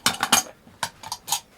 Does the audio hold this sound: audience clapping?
no